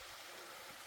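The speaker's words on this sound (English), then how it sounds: "Hey, it's a little waterfall." A small waterfall in the Gondwana Rainforest near Copeland, NSW, heard as a brief, faint, steady rush of falling water with no voices.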